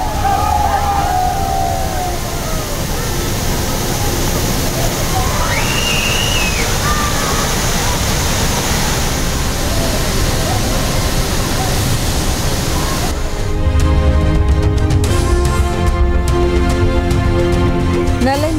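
Heavy, steady rush of Thirparappu waterfall in Kanniyakumari district as tourists bathe after floodwaters receded, a loud continuous roar throughout that shifts in character near the end.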